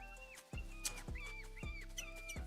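A wolf tracking collar signal in the hunting game theHunter Classic: squeaky, chirping pulses repeating in a steady rhythm about twice per second, each with a sharp rising squeal, moderately loud and alone.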